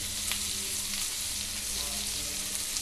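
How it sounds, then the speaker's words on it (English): Chicken tikka kebabs frying in olive oil in a pan, a dense continuous sizzle with crackling spatters, loud and close, steady for the whole stretch with no talk. "That's why I am frying the chicken tikka kebabs with olive oil."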